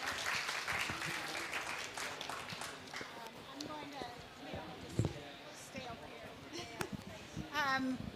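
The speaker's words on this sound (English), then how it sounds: "let's go ahead and have a round of applause for this panel" Scattered applause from a conference audience after a panel discussion, moderately loud at first and thinning out, with voices chatting over it.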